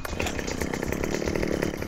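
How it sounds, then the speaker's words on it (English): A hefty, lumberjack-grade chainsaw buzzes loudly and continuously at close range during home yard work, the engine note rattling steadily with no pauses. "This thing is a man's chainsaw."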